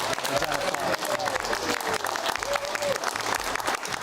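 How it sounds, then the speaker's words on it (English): A television studio audience gives a big round of applause, dense continuous clapping with crowd noise and a few voices mixed in, steady and moderately loud throughout. "can we please have a massive round of applause"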